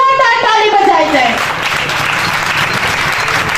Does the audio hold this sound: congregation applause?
yes